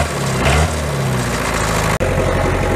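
An old junkyard car of unknown year, bought unseen, runs roughly with a low, steady engine drone throughout, loud and close, with a brief cut near the end before it continues.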